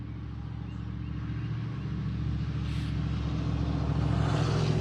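A truck drives along, heard from inside the cab as a steady low engine drone and road rumble that rises slightly in loudness, with no speech over it.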